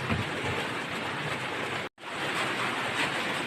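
Heavy rain pours down in a sudden downpour, a loud, dense broadband hiss that runs unbroken except for one brief dropout midway.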